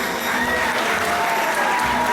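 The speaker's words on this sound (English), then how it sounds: "I want everybody to give Caroline a big round of applause." A crowd at an outdoor bird show applauds steadily, with dense continuous clapping at moderate loudness and some faint voices mixed in.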